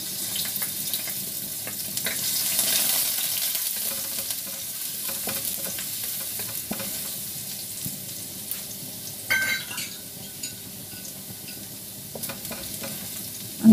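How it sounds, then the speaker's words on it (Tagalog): Garlic sautés in cooking oil with a soft, steady sizzle, joined by faint stirring and scraping noises and a brief clatter near the end. "Lalagyan natin ng mantika. Lagay natin ang ating bawang."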